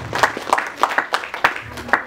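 Clapping from an audience at a ward-level community event for women, youth and children in Godavari, Lalitpur, with about eight separate sharp claps spread unevenly across two seconds, moderately loud and fairly sparse rather than a full ovation.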